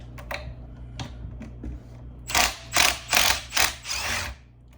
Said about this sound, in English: It's 8mm socket, I believe.